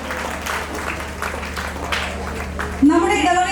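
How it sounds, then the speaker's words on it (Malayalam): Audience applause at a church prize distribution in Cherai honoring parish children, steady dense clapping throughout, with a voice briefly calling out near the end. "എല്ലാവരും ഒന്ന് കൈയടിക്കണേ"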